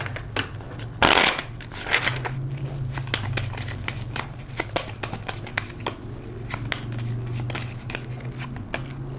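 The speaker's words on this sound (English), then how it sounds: "Let's pull some cards from this deck." A tarot card deck is shuffled by hand, a quick run of crisp riffling clicks and flutters with one louder burst near the start, continuing steadily close to the listener.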